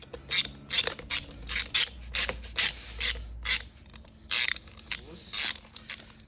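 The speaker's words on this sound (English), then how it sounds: "let me get a spanner and we'll pull these out" A spanner or ratchet working loose the flywheel bolts on a motorcycle starter clutch assembly gives repeated short rasping, clicking strokes in a steady rhythm, close and fairly loud, with a low hum underneath and no talking.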